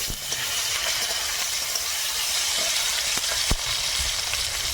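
Chopped onion and bay leaf fry in hot oil in a home kitchen, a steady close sizzle and hiss running throughout, with a few faint clinks and taps from stirring.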